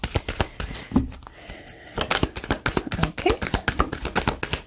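A deck of tarot cards is shuffled by hand, a fast run of crisp riffling snaps with a short pause before the shuffling resumes, close up.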